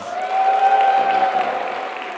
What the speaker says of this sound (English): So one more time, a round of applause for Site Savers.